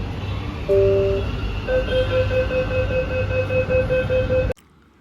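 A metro train rumbles steadily along with a low droning hum and sustained electronic tones, loud and close, before cutting off abruptly near the end.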